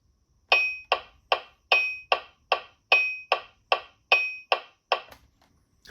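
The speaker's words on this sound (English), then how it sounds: "So here I've got the metronome set to a meter of 3." Sharp metronome clicks tick at an even pace in a meter of 3, one louder bright accented click at regular intervals marking each downbeat, then the ticking stops.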